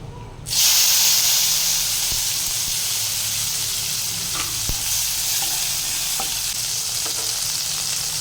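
Tomato tipped into hot oil with black cumin seasoning in a Bengali kitchen, bursting into a loud, steady sizzle and hiss that carries on throughout, with occasional clinks and scrapes of stirring.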